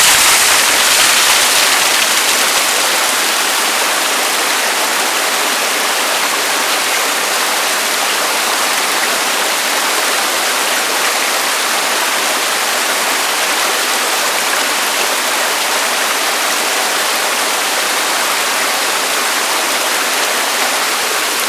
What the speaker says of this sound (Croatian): Sad idem da pustim vodu, ako ima išta peska unutra da ga istera.